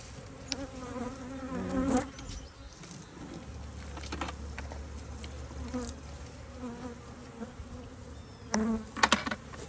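Honeybees buzz steadily from an opened hive during a spring inspection, a low droning hum with occasional louder passes of individual bees close by.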